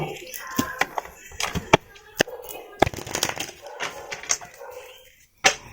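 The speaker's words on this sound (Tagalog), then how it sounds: "Ang pasensya na sa tahol ng aso, ha." A dog barks repeatedly in short, sharp bursts near an indoor tarot reading, the barks scattered irregularly across several seconds over quiet room tone and faint voices.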